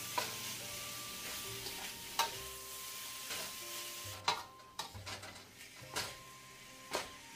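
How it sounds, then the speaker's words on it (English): Light frying with soft sizzling as sweet peppers cook in a pan, broken by clattering stirs and scrapes that come every second or so, heard close with no voices. "And now my pepper is finished frying up."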